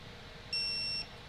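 A digital torque wrench tightening a bolt coated with blue Loctite to 20 foot-pounds gives a single short, clear electronic beep against a faint, quiet background.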